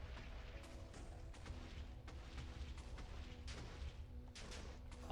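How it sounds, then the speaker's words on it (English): Rapid, dense explosions from a Minecraft mining session pop and rumble continuously, overlapping bursts in a busy, steady barrage at moderate volume, with no talking. "that's a lot of explosion noise"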